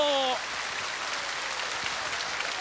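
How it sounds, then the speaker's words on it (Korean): Audience applause at an outdoor Korean televised singing contest in Damyang County, South Jeolla, welcoming the first contestant; a brief musical sting opens, then steady, moderately loud clapping continues throughout. "첫 번째 출연자에게 박수 보내주시기 바랍니다."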